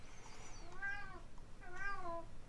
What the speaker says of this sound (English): My cat's making funny noises in the background there.